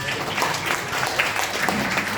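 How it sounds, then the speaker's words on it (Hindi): An audience in a talk hall breaks into applause, a dense, steady patter of many hands clapping at moderate volume, continuing evenly without pause for the whole stretch. "एक महिला लोग के लिए एक जोरदार तालियां होना चाहिए।"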